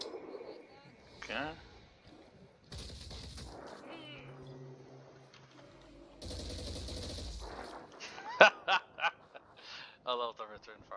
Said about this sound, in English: I love the return fire